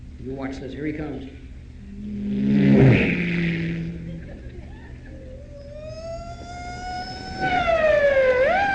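A voice imitates a police siren chasing a hot rod car, with sputtering engine and revving noises first, then a loud rising and wavering siren wail that sweeps higher toward the end.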